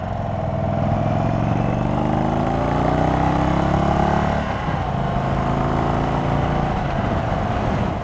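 An Indian Chief Dark Horse motorcycle engine runs with a steady low throbbing drone at low speed, close and continuous, its pitch shifting slightly partway through.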